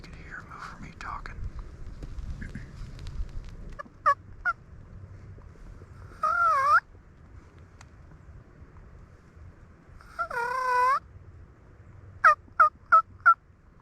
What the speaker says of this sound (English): The second gobble sounded like he was in the same spot.